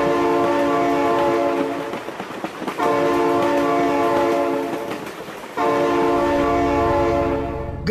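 Train in the BeamNG Drive video game rumbles past while its horn sounds in two long, loud blasts separated by a short gap, with no talk.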